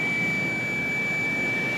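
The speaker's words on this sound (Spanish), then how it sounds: "el sonido que emite el instrumento debe apagarse" A motorcycle ignition system test instrument emits a steady, continuous electronic tone, a single pure pitch held throughout without a break over a faint background hiss.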